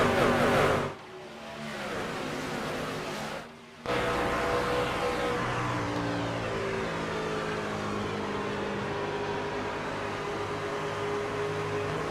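Trucks race at Homestead in iRacing, a dense engine roar from several vehicles rising in pitch as they accelerate off the green flag, loud and continuous throughout, with no talking.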